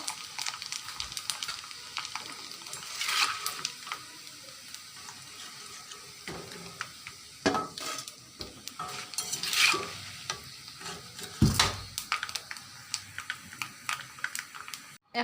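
Rice papad frying in oil with bursts of crackling sizzle, irregular stirring and scraping in the pan, and a few louder clatters of a utensil.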